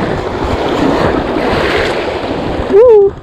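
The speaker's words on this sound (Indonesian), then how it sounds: "Ombaknya bahaya." Rough ocean waves and wind roar steadily around a speedboat out fishing at sea, with a continuous loud wash of surf and wind noise. A brief voice-like tonal sound rises near the end.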